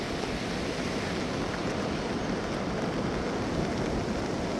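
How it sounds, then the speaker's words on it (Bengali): Rough, stormy sea at Cox's Bazar in monsoon rain, a continuous dense roar of crashing waves and rain with wind rumble, loud and unbroken, with no voices. "আর এই যে উত্তাল সাগর। এটা জুম করে দেখাই, দেখেন কি পরিমাণে বড় বড় ঢেউ"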